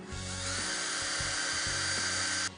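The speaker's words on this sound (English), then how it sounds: "I'm just going to drill a hole all the way through" A power drill whines steadily and loudly for a couple of seconds while boring through a tent pole, its pitch dipping slightly as it bites, then stops abruptly.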